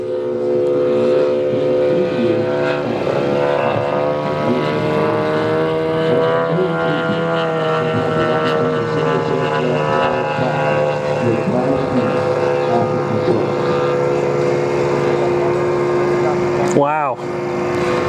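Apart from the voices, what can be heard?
loud model airplane engine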